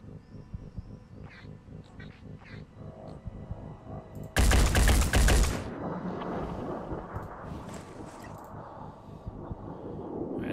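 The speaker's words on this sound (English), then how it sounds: "So we'll be firing a lot of shots." Gunfire in the turn-based tactics game Phoenix Point: a loud, dense burst of shots lasting about a second, rising sharply out of a low game soundscape and then trailing off into a rumbling tail.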